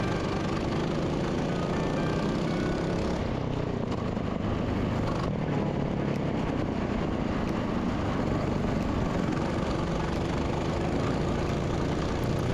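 Racing kart engines on a track in a Macey Cup race, going up the inside of other karts into a hairpin, give a continuous loud buzzing drone that stays close and steady throughout, with no talk.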